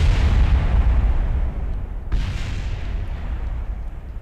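Rocket launch failing in Kerbal Space Program, a loud continuous rumbling roar with an abrupt blast-like break midway, then the heavy rumble carrying on, no voices.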